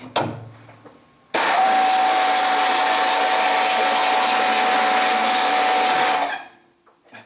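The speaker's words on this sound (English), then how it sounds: "So now we're going to pressure wash it and blast out the remaining ink out of the mesh fibers." A pressure washer spray blasts leftover ink out of screen printing mesh, a loud, steady broadband hiss that starts abruptly after a quiet moment, holds for about five seconds, then cuts off.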